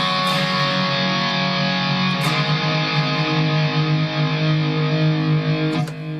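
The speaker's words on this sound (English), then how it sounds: "first I'm going to show you the ice cream pedal" Electric guitar through an Ice Cream low-gain overdrive pedal, a few ringing, sustained chords with light grit, picked steadily at moderate volume with no talking.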